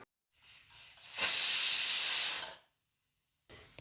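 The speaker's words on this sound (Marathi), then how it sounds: "इथे कुकरची एक शिट्टी झालेली आहे" Whistle of a pressure cooker on a low gas flame cooking masoor dal, one loud sustained hissing blast of steam lasting just over a second, preceded by a softer hiss and followed by silence.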